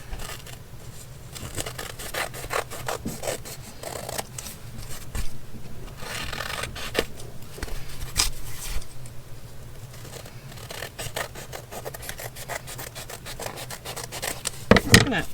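Scissors or a trimming blade working through an old book page, with dry rubbing and rasping cuts in an irregular rhythm, close and fairly quiet, and a sharper clatter at the very end.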